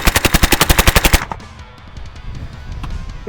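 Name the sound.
Polish PM63 machine pistol firing a fast burst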